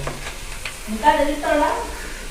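Urad dal crackling in hot oil in a home kitchen, with soft sizzling and scattered small pops building through the middle. A faint voice is audible underneath.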